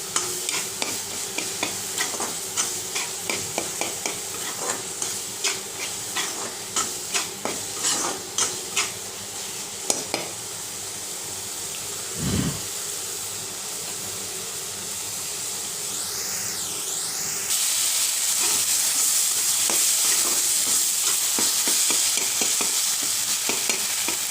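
Tomato and masala frying in a pan for a masala fish head curry: rhythmic scraping stirs and clicks over sizzling at first, giving way to a steadier, louder hiss and sizzle of the cooking mixture, with no voices.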